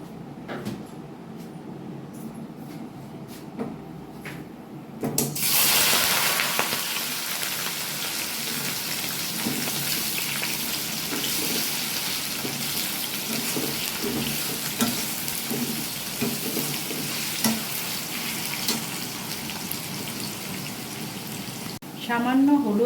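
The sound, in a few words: boiled taro root frying in hot oil in a wok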